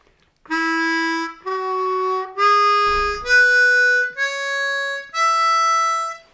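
Six clean harmonica notes step upward through a major pentatonic scale one after another, each held for about a second, played alone.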